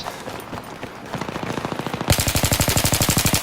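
Automatic weapon fire in Battlefield 3 multiplayer starts as a faint, rapid burst, then turns into a loud, close, steady stream of shots.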